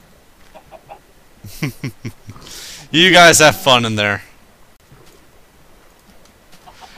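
Chickens cluck in Minecraft, a short burst of bright game clucking that stands out loudly for about a second amid quieter game sounds, with someone speaking briefly before it.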